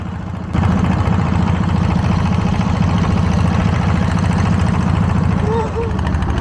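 A motor boat engine on a short ferry ride across a river drones at a steady, throbbing idle-like pace. It starts abruptly and runs close and loud, with a voice talking faintly over it.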